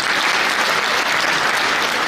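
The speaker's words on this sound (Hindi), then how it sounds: "जोरदार ताली हो जाए रमेश जी" Loud, dense audience applause fills a hall at a Safe Shop motivational seminar. It runs steadily from start to finish with no pauses.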